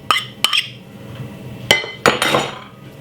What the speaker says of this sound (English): get the mixture and scrape the mango in it like this